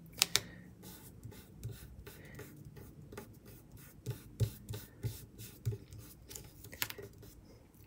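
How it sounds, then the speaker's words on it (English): A pencil is pressed and rubbed across paper to transfer lines onto craft foam, giving soft, scratchy strokes in quick, uneven bursts, close and faint in a quiet room. "And then you're going to press down and rub, and your pencil lines will transfer onto the foam."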